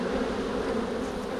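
Bees buzzing close by while feeding on honey and pollen set out for them, a steady continuous drone with no talk.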